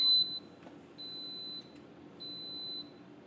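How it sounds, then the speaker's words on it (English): An Instant Pot Mini pressure cooker beeps in a kitchen, a few thin high-pitched tones repeating at roughly even intervals, moderately loud over a quiet background hum. "it's going to start beeping horribly at me in a minute"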